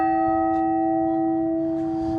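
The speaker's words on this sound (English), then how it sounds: "This is a replica of the Liberty Bell." A half-scale replica of the Liberty Bell in Yuma, struck once and left to ring, a loud sustained metallic tone with steady overtones slowly decaying, near and alone.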